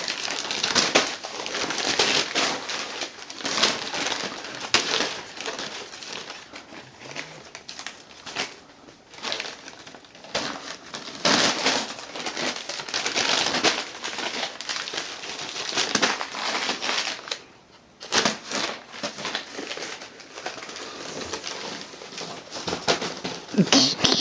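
A Ragdoll cat plays with and chews a paper CVS Pharmacy weekly flyer, making close, irregular bursts of crinkling and rustling paper that continue with brief pauses for over twenty seconds.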